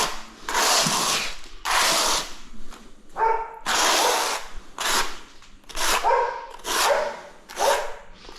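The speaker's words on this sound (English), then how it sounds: "The doggies are woofing" Dogs barking in repeated loud bursts with short pauses between them, close by and without talk, heard against a tiling job.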